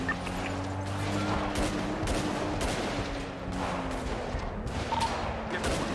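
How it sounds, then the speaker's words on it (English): Gunfire in a GTA V roleplay shootout as players shoot at a car's tires, rapid overlapping volleys of shots crackling nonstop over a droning engine hum, loud and dense throughout. "Start shooting tires."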